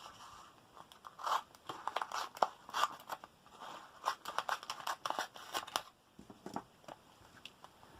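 Scissors snip through a vellum and adhesive sheet trimmed off a festive craft tag, with a run of close, crisp cutting crunches and small crackles that pause briefly before a few final snips.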